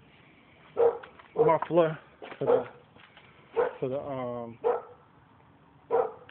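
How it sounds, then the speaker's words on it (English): A dog barks at cats in several short, sharp bursts spread through the clip, with someone talking nearby between and over the barks. "Dog barking at cats."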